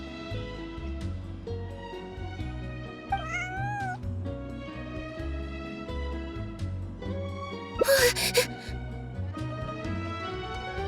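A cat meows in Genshin Impact, one short mew followed by a drawn-out rising and falling call over steady game background music, with a brief rustling burst near the end.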